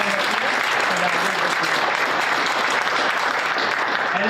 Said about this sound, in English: round of applause to everyone that's here